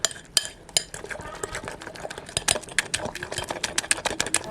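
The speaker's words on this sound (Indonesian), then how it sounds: "Kemudian ini kita aduk hingga semua bahan tercampur merata" A spoon stirs a batter of wheat flour, sago flour and other ingredients in a bowl, making a busy run of quick clicking and scraping taps against the bowl, close and steady, with no talking.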